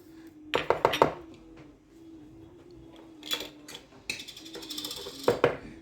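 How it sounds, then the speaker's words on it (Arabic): Two spoons of sugar are added to a bowl, heard as sharp metallic clinks of a spoon against the bowl in short clusters, close by, over a faint steady background hum. "نبتدي نحط معلقتين السكر اللي قلنا عليهم"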